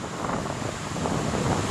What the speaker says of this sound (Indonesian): inilah air terjun Lembah Anai yang saya bilang tadi ya